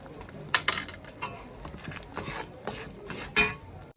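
A spoon scrapes and stirs roast masala spices through chicken in a pan, giving irregular, close scraping strokes with a few sharper clanks against the metal.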